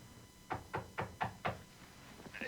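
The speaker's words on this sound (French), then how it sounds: "Écoute, on cogne à la porte." Five steady knocks land on a door, evenly spaced and hollow, then a couple of fainter taps follow against a quiet room background with no talking.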